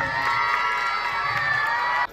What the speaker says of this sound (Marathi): आजोबांच्या जरा टाळ्या वाजवा.